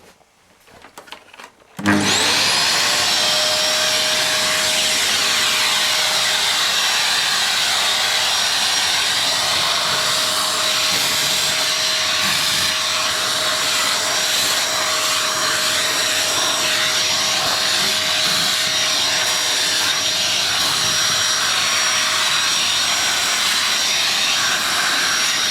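A Hoover The One Performer vacuum cleaner switches on after a brief quiet moment and runs at a loud, steady whine with strong suction, close by and continuous, no voices.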